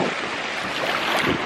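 Ocean surf rolling onto a cold beach in Brazil, a steady near wash of waves mixed with wind noise, no voices.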